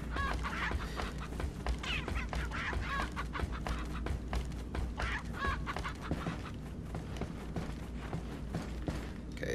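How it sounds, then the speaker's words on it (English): A chicken in the video game Resident Evil 4 gives faint, choppy clucks and squawks in repeated short bursts over a quiet, low background hum. "Hello there, chicken."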